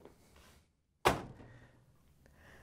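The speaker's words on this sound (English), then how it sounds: "Now we can close the washer door." A Whirlpool washer door swings shut with a single solid thunk that dies away into quiet room tone, with no one talking.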